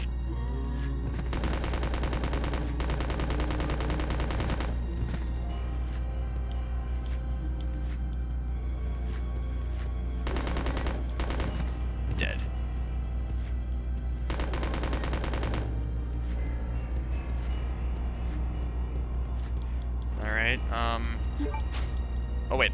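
Submachine gun fire in Resident Evil Code: Veronica, several sustained rattling bursts of automatic shots separated by pauses, over a constant low hum and a person talking.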